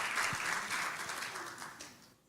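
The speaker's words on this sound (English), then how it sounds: "Can we please give a round of applause?" Audience applause at a church youth event, a crowd clapping steadily before it thins out and dies away near the end.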